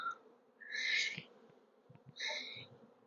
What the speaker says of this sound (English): We need to get some bees in here.